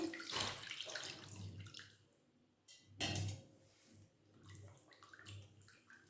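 Raw chicken, about 750 grams, gets washed by hand in water, with continuous splashing and sloshing, a louder burst of running water in the middle, and no talking.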